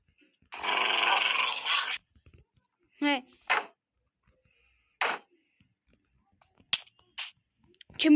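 A pet dog in the Minecraft video game gives several short barks and whimpers, spaced apart with quiet gaps, after a brief burst of hissy noise at the start.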